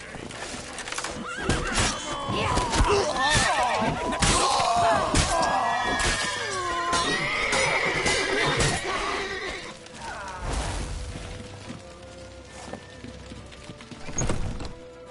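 A horse whinnies loudly with long wavering neighs over busy game-like action, hoof thuds and scattered impacts, then the scene quiets near the end.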